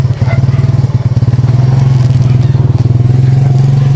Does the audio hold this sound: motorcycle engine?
yes